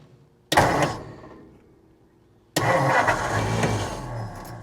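A 1949 Meteor car engine with an overheating problem cranks and catches briefly, fades out, then starts again about two seconds later and keeps running loudly close by.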